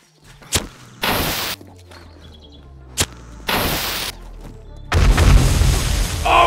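Pipe bombs burst in 7 Days to Die during a PvP battle royale, sharp booms at intervals mixed with broadband blasts and a loud rumbling detonation near the end.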